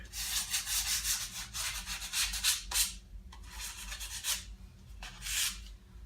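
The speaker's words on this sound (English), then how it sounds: "just go around and smooth out the neck" A curved banjo neck from a Fireside banjo kit is sanded by hand with 100 grit sandpaper, giving close, rhythmic rasping strokes in bursts separated by brief pauses, with no talking.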